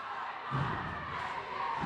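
Crowd noise at a girls' high school basketball game between Ridgeland-Hardeeville and May River in a gym, a steady murmur that swells briefly into louder cheering.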